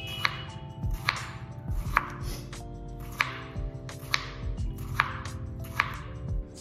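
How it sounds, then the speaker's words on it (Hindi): A knife chops salad on a board in a steady rhythm of crisp, close cuts, with sustained background tones running underneath. "अब थोड़ा सा सैलेड काटूंगी फिर खाऊंगी"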